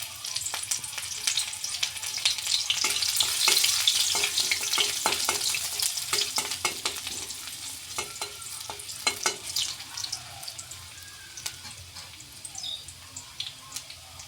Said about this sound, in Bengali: কড়াইতে আর একটু তেল দিয়ে দেব। দিয়ে দেব পেঁয়াজ কুচি,